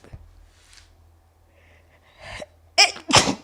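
After quiet breathing and a sharp intake, two loud sneezes burst out in quick succession, close to the listener.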